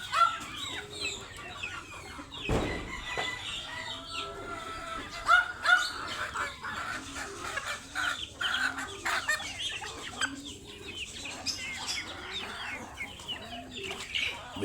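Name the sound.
dog on a farm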